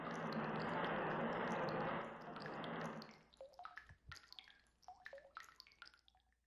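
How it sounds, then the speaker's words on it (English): Water droplets in Ocarina of Time 3DS: a loud steady watery rush gives way to a series of separate, clear drips and plinks, sparse and fairly close. "Yay, droplets of water."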